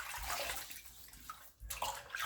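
Water splashes and sloshes near at hand as a face is wetted with the hands before a shave, a busy wet rush with a short pause midway.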